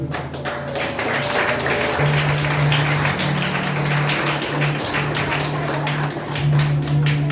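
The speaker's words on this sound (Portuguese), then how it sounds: "Vamos aplaudir o Senhor." A church congregation claps at a Portuguese-language service, steady dense applause throughout with a sustained low tonal hum beneath, loud and close.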